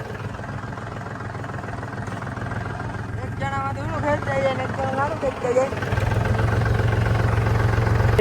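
A tractor engine runs with a steady low idling drone that grows louder toward the end, heard under people talking nearby.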